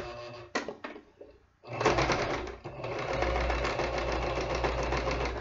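A small sewing machine stitches a reversible Christmas tree skirt, starting with a few short bursts and a pause, then running in a fast, steady whir up close until the end.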